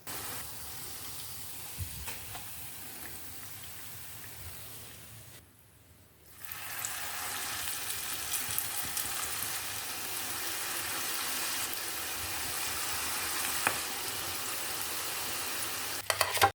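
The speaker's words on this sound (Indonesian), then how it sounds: "Dan goreng semuanya sampai selesai." Vegetable fritters (bakwan sayur) deep-fry in hot oil, giving a steady, dense sizzle and crackle throughout, briefly dropping off for a moment before returning loud and continuous.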